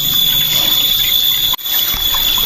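River water flows beside swampy ground with a steady, close rushing wash, a constant high whine and one brief dropout partway through.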